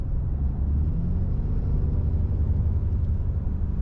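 A 2025 Ram 2500 with the Cummins diesel pulls at three-quarter throttle, a deep, steady, heavy engine drone heard close and alone.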